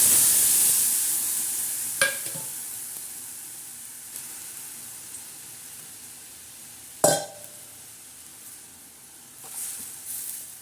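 Cumin seeds crackling in a hot tempering pan for coconut chutney, a sizzle that starts strong and slowly fades, with two sharp utensil clanks and a brief stir near the end.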